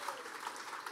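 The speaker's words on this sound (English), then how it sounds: "Your applause." An audience claps at the finale of the Mercedes-AMG Motorsport eRacing Competition 2017. The applause is a brief, steady patter that sounds fairly distant and soft.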